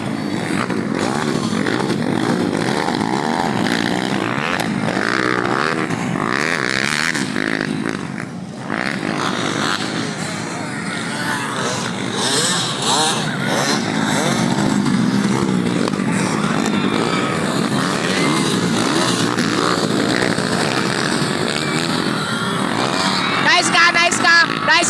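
Several 85cc motocross motorcycles race in a local final heat, their high, buzzing engines rising and falling continuously beneath an announcer's loud commentary.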